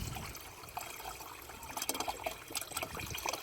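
Liquid is poured to refill a car reservoir during a windshield wiper motor job, a soft, close trickle and splash that gurgles in irregular bursts, faint overall.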